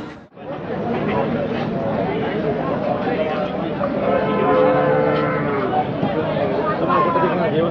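Bullocks and cattle low and call at a busy open-air bullock market in Chakan, with steady crowd chatter and people talking throughout, loud and close.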